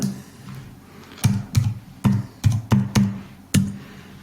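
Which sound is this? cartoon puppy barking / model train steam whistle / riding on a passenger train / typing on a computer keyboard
typing on a computer keyboard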